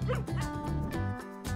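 A small dog gives a short burst of high yips and whimpering barks, close and fairly soft, with a brief pause before a final yelp.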